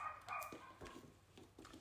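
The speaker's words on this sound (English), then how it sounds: "Or the puppy next door. Can you hear that?" A puppy barking from next door, faint and distant, with a few short yips and barks spread across a quiet indoor room.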